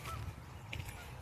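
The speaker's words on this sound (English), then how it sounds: "Noisy geese." Geese honking outdoors, a few faint, distant calls over soft background noise.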